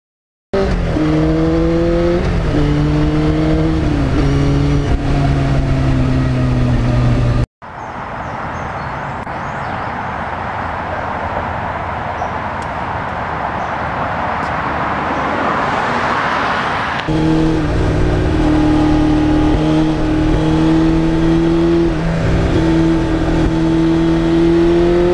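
A 1991 Yamaha FZR 1000 motorcycle exhaust revs loudly and continuously with rising and falling engine pitch, broken in the middle by a stretch of rushing wind-like roar before the engine tone returns.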